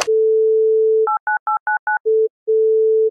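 Telephone dial tone: a loud steady tone, then a run of five short dialing beeps, followed by a brief return of the tone, a short gap and the tone again, close and with no talking.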